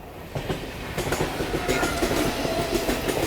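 A train rolls past close by, wheels clacking rhythmically over the rails with a steady rumbling hum, no talking.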